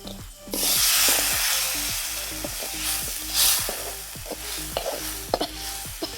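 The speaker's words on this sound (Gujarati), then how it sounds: "થોડું પાણી રેડીશું." Water hits a pan of gravy spiced with garam masala during jungle camp cooking, setting off a loud close sizzle that swells and then settles into steady frying with a regular ticking underneath.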